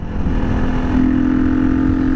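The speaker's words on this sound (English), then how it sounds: "Like how I matched the pitch with my engine." Motorcycle engine revving steadily up close on a ride, a sustained droning tone that climbs in pitch midway and holds, with road and wind noise underneath.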